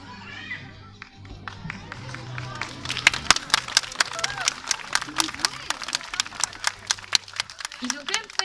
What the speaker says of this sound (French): Ils ont quand même failli pas t'applaudir, hein.